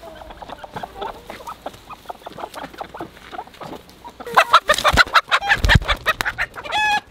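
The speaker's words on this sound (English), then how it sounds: "Let's catch these chickens." Chickens clucking and squawking nearby, quiet at first, then a loud flurry of agitated calls and flapping in the second half.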